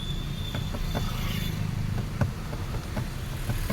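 A car rolls along during a driving lesson, its engine running steadily with faint mechanical clicks and bumps over a constant low hum, no voices over it.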